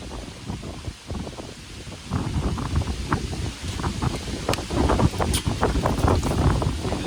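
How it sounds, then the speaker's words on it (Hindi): Strong wind gusting steadily outdoors, with broadband roar and mic buffeting that grows louder after the first couple of seconds and stays heavy throughout. "यो देखो कितना ज्यादा हवा चला थे, वे भारी हवा चला थे"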